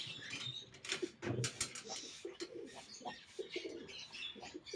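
Soft cooing of pigeons close by, with rustling and fluttering mixed into a busy background.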